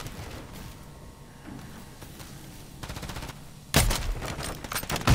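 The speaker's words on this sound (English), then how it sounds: "Paintball gun going out." Rapid bursts of paintball gun fire in a Call of Duty match, a fast string of sharp close shots that grows louder and denser toward the end, with faint game ambience beneath.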